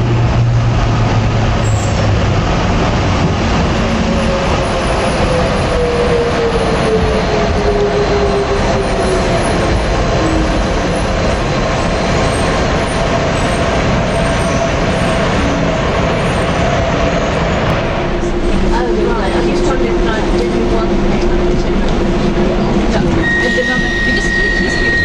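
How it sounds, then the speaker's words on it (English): London train arriving and running on the line to Lewisham, a steady loud rumble and rolling rail noise throughout, with a faint rising tone partway through and a brief whine near the end. "Here's our train now, take us to Lewisham."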